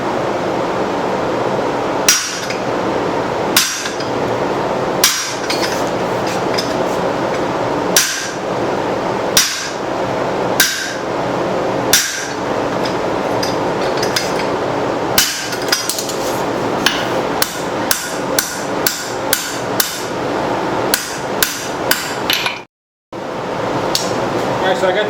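Sharp, loud hammer blows on a guillotine tool, isolating the bowl from the handle of a hand-forged spoon, struck in irregular bursts of single and rapid repeated ringing metal impacts over low background hum, ending in a brief silence.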